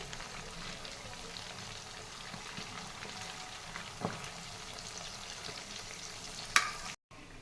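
Fish pieces frying in oil in a pan, turned over gently on both sides; a low, even sizzle runs throughout with a few soft clinks near the end, no voices.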